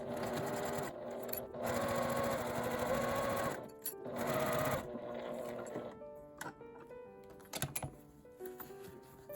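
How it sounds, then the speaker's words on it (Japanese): Sewing machine running a straight seam on a zipper pouch, loud close bursts of rapid stitching that stop and restart several times, then a few clicks and light handling sounds. "端から5センチぐらいのところまでそのまままっすぐ縫います。"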